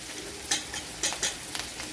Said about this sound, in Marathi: कोथिंबीर टाकून घ्यायचं कोथिंबीरला पण छान परतून घ्यायचं